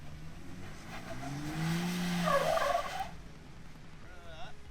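A Ford Bronco on 37-inch tires is driven hard over an off-road trail obstacle. The engine revs up in a rising, straining growl for about two seconds, then drops away, moderately loud and fairly close.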